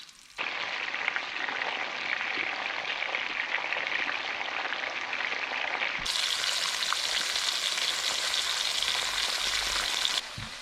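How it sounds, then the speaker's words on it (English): Gaper clams sizzle steadily in hot oil, a dense, even crackle of frying that holds at close range for the whole stretch with no voices. "When you fry them like this, it's really interesting."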